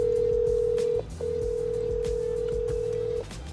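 A telephone call rings out with a steady electronic tone, one long burst, a brief gap, then a second long burst, all over faint background noise.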